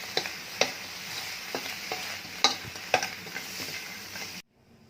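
Shrimp stir-roasted dry with salt in a pan, a steady crackling sizzle broken by sharp scraping stirs and clicks at irregular intervals, then cutting off abruptly.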